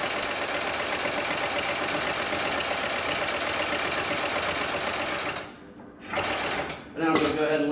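An industrial sewing machine for lifting slings, ropes and straps stitches in reverse with a loud, steady mechanical buzz. It cuts out briefly near the end, then starts again.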